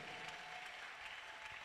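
A church congregation claps for Jesus during a worship service, producing a quiet, continuous patter of applause heard at a distance with no voices over it.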